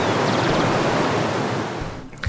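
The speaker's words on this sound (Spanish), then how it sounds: "Escucha el murmullo del río que te acompaña en todo el camino" A river murmuring along a mountain trail in the Andes: a steady, dense broadband rush of flowing water, close and continuous, easing slightly toward the end with a brief low thump.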